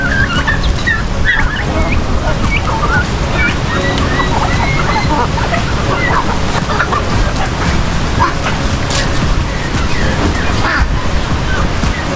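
A turkey's scattered clucks and calls come through outdoors during strong typhoon winds in the Philippines, small repeated bursts half-buried under a loud, constant roar of gusting wind.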